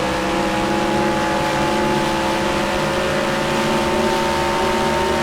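Race car engine in the Sportsman Series R4 at the New York Grand Prix, recorded from inside the car: a loud, steady, buzzing engine drone that holds nearly constant pitch throughout, with no clear shift changes standing out.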